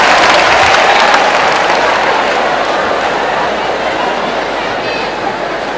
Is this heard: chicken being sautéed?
no